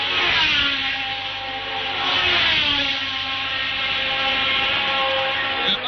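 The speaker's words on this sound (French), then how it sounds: "Le moteur de Regazzoni fait un drôle de bruit." A 1971 Formula 1 car at the Spanish Grand Prix, its engine giving off an odd, uneven note, revs rising and falling with a steady loud drone throughout and no talk over it.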